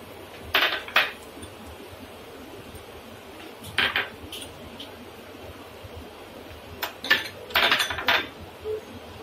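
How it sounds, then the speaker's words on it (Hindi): Dry fruits sprinkled over zarda, a sweet rice dish, in a serving dish: several light clinks and rattles of pieces and a spoon against the dish in short clusters, close and quiet, with no talk. "अब हम इसमें थोड़े से ड्राई फ्रूट्स ऊपर से डाल देंगे"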